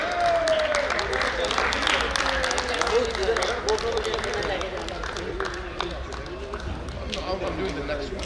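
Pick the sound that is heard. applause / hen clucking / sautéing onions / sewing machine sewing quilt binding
applause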